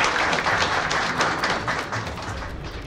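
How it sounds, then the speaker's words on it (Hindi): An audience claps together in a dense, sustained burst of applause, loud and close at first and tapering slightly toward the end. "एक बार सब लोग ताली बजा दिए।"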